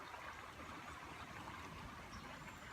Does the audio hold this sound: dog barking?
no